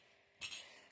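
A single sharp clink of cups while tea is poured, close by, with a short bright ring fading away in a quiet room.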